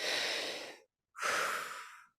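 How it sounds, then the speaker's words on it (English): Breathwork done through the mouth: a long, airy rush of breath, a brief silence, then a second forceful breath, close and clear with no talking. "So it's 2 breaths in through the mouth, 1 breath out."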